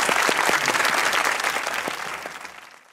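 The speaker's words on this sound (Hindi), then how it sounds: "ताली होनी चाहिए।" A studio audience at a comedy talk show applauds a Pakistani mixed martial artist after her punching feat. The clapping is steady and close, with a few sharp individual claps, before tapering off to silence at the end.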